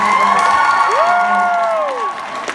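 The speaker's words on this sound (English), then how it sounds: "can we get a round of applause for these beautiful ladies?" Loud crowd cheering at a live show in Kansas City, with rising and falling shouts and whoops from the audience over a sustained roar, fading slightly near the end.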